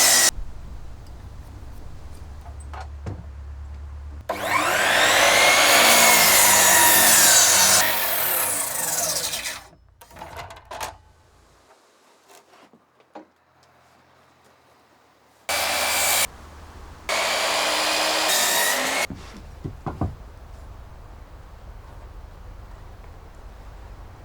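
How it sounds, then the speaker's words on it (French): A radial mitre saw cuts through wooden beams for a suspended treehouse in two loud, close bursts of high whining blade noise, separated by quieter stretches of handling and faint knocks. "Avec une scie à onglet radial."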